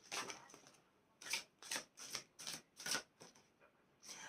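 Tarot-style cards are shuffled and drawn for a reading, giving soft, close riffling bursts in a steady rhythm of about a half-second, quiet and alone.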